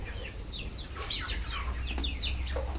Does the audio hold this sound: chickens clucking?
yes